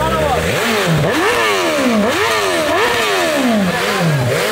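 A BMW S1000 motorcycle engine is held against the rev limiter, close and loud, its pitch repeatedly climbing and bouncing back in a steady sawtooth pattern about once a second, with voices faintly under it.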